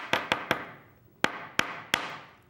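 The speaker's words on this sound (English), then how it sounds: "I can use this end of the hammer to create that dent into the heavier wire" Six sharp metal hammer strikes flattening heavier jewelry wire on a hard block, each ringing briefly, in two groups of three with a short pause between, close and clear with no talking.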